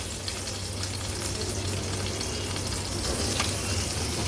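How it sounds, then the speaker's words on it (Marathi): Mackerel (bangda) fries in oil in a pan over a low-to-medium flame, giving a steady, dense, continuous sizzle heard close up with no pauses. "मी हे लो टू मीडियम फ्लेमवर एक बाजू तळून घेणार आहे"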